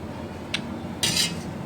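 A spicy long-nosed fish stir-fry is tipped onto a plate: one brief clink, then a louder metallic scraping clatter lasting a fraction of a second.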